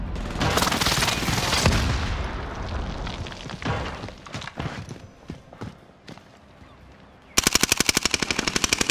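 Rapid automatic gunfire and bursts of shots in Call of Duty: Modern Warfare, dense and loud at first, then scattered single shots, ending in a sharp fast volley up close.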